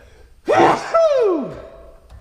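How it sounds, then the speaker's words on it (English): A single loud sneeze, a sharp intake of breath and then an explosive burst, rings out with a noticeable echo trailing off in a reverberant room. "Now my sneeze wasn't that loud, it's just very echoey in here"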